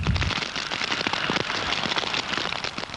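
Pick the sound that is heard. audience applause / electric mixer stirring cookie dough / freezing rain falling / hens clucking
freezing rain falling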